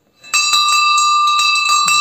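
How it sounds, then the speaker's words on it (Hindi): A metal bell from Cambodia is struck once, then rings on loud and clear. The sustained tone shimmers and pulses as it decays, with no voices over it. "हाँ घंटी हो गई, बजाओ। घंटी है या नहीं है?"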